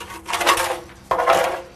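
A tool scrapes leftover concrete chunks out of a mixer, two gritty scraping strokes in close succession, loud and near, with a sharp onset on the second pass.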